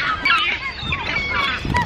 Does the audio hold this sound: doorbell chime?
no